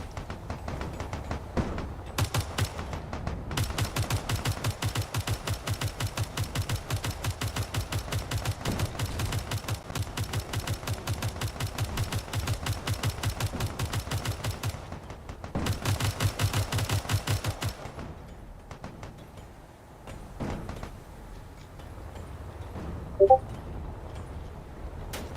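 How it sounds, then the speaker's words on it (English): Mortar fire in a Space Engineers battle scenario: long stretches of rapid, steady mechanical firing, faint and even, with a pause and a second burst, then quieter scattered impacts. "This is a mortar fire going on over here."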